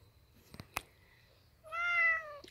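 A pet cat gives one clear, drawn-out meow close by in a quiet room, after a few faint clicks.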